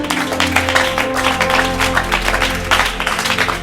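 A church audience breaks into applause, rapid dense clapping with a low steady tone underneath, continuing evenly for a few seconds.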